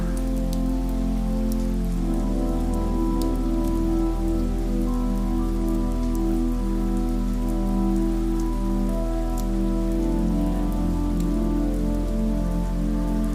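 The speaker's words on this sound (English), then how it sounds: "Summer thunderstorm." A summer thunderstorm brings steady, dense rain that patters close and evenly throughout, over a soft, low, sustained drone, with no thunder clearly standing out.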